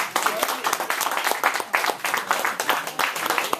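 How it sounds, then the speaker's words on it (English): Audience applause for a speaker's wife at a health day event, a short burst of dense hand clapping that swells and fades over a few seconds, with voices mixed in. "Another round of applause for my dear wife."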